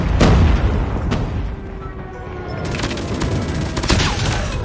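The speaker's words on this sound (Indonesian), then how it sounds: "Predator missile inbound." Predator missile strike in a first-person shooter game, heard as a dense, continuous rumble of booming explosions and gunfire, loud and close throughout.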